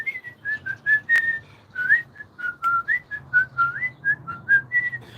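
A person whistles a lively, wavering melody of short and sliding notes, close and clear, with a faint low background hum underneath.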